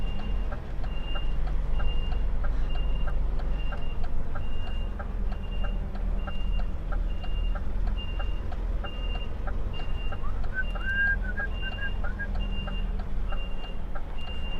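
A truck backs up for a long stretch, its reversing alarm beeping in a steady, evenly spaced rhythm over a continuous rumbling engine, with a faint birdlike chirp partway through.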